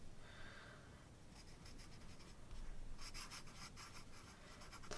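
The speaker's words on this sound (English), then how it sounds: "just do a little bit of writing in pencil" Pencil scratching across paper in small strokes, faint and close, a quiet rustling scrawl that grows denser and more rapid toward the end, with no voices.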